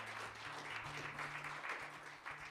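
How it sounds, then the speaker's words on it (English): Audience claps for three performers at an evening songwriters-in-the-round concert, a steady moderate wash of applause over a low background hum. "another round of applause for Dave, Ryan, and Roger"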